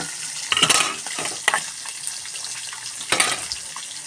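Fish pieces frying in hot oil in a pan, a continuous close sizzle and crackle with a few sharper spits and bursts, plus occasional clinks of a utensil, no talking.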